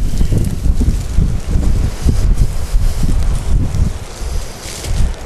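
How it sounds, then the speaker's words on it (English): Outdoor wind buffeting a microphone over a wet plowing field, a steady loud low rumble with gusty swells and no other clear sounds. "Pardon the wind, but I don't have any control over it."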